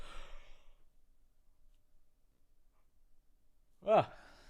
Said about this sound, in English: Big yawn.